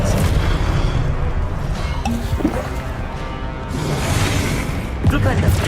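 A wizard's disarming spell is cast in Hogwarts Legacy, heavy booming magical impacts and whooshes over a dense game soundscape, with a voice shouting the spell's name.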